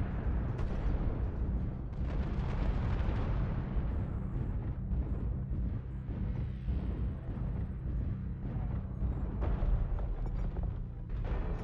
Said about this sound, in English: Target acquired. Artillery strike online.